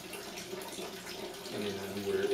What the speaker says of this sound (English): we really like to do a lot of rinsing, distilled water rinsing, immediately before going into the bath